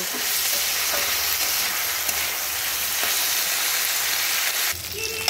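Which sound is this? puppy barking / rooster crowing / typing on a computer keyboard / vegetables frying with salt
vegetables frying with salt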